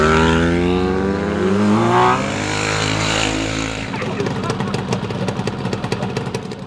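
A Ducati Multistrada 1200 motorcycle on Japanese mountain roads in the Kantō region revs and accelerates, engine pitch sweeping upward and loud, then shifting into a rapid, pulsing rasp as the bike pulls away.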